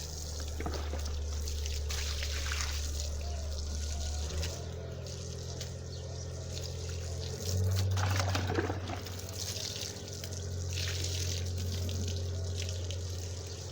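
Detergent water poured and splashing over carpets being washed at home, a steady trickling and running water sound with a low hum, close and continuous, briefly louder midway.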